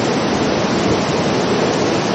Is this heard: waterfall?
yes